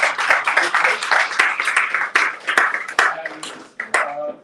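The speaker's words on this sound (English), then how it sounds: "let's give them a round of applause" An audience at a Founders Lounge startup meetup in Uganda claps for several seconds, a lively patter of hands with individual sharp claps standing out as it thins toward the end.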